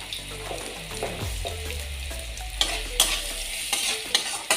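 Lentils with turmeric stir-fried in a pan: a close sizzle with repeated spatula scrapes and knocks against the metal, growing busier toward the end, with no voices.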